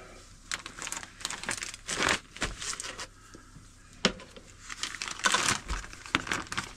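Vacuum-sealed plastic bags for winter food stores crinkle and rustle in a string of irregular crackling bursts, close and fairly loud, with no speech.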